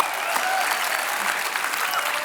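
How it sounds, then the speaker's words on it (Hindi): A crowd claps steadily and loudly, continuous applause filling the room with no talking. "जोरदार तालियां इनके लिए"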